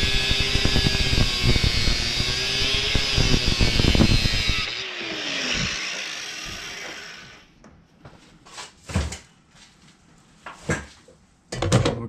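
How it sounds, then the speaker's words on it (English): An angle grinder slices through bent metal, a loud continuous whine for about five seconds that winds down and stops, followed by scattered clanks and knocks. "I'm going to slice this with the angle grinder."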